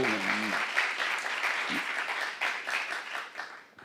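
A church congregation at a Saturday worship service claps together in steady, sustained applause, following a brief voice at the start, moderately loud and roomy.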